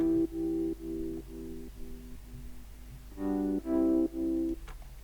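Soft synth chords from the Diva plugin, sustained tones sounding in a steady rhythmic pattern, quieter at first and then swelling louder near the end, with no voices.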